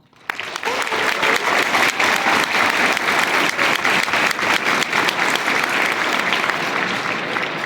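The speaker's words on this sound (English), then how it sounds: "Give them a round of applause." A large convention crowd at Dallas Fan Expo applauds steadily after a VTuber panel moment, dense sustained clapping that swells at the start and holds loud throughout, with a few faint voices mixed in.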